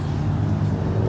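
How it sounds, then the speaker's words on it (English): Steady low road traffic rumble fills the background beside a parked Hyundai Elantra with surging RPMs, a continuous near-constant wash of passing vehicles with no distinct pass-bys. "You're going to have to excuse the traffic noise."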